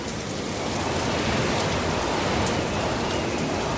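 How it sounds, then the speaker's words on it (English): Heavy rain pours down in a dense, steady roar with a gusting wind storm, loud and continuous throughout with no voices. "the wind got stronger and stronger, and the rain got heavier and heavier"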